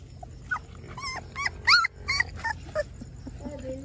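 A puppy just received as a gift whimpers and yips in short high-pitched cries, several in quick succession, close by over a low background hum.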